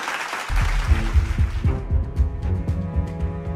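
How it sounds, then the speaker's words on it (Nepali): A studio audience bursts into applause to welcome the first pair onto the stage of a Nepali folk singing competition's duet-special episode. The clapping is dense and broadband, then gives way to a band's music after about two seconds. "उहाँहरूलाई जोरदार ताली बजाइदिनु होला"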